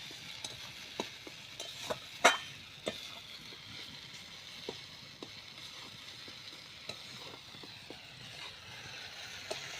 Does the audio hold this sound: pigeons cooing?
no